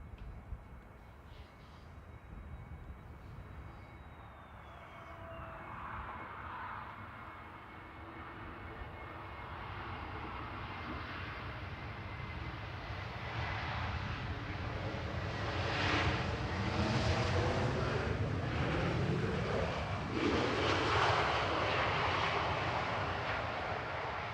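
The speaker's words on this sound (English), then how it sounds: "Just coming over the threshold now is TNED A321 Neo that's brand spanking new" Brand-new Airbus A321neo airliner crossing the threshold to land at Manchester Airport, a long engine roar with a falling whine that swells steadily as the jet passes nearer, heard outdoors from a distance with no voices.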